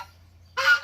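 A rooster at a guinea pig rescue gives a single short, close crow or squawk after a near-silent moment with a low hum underneath.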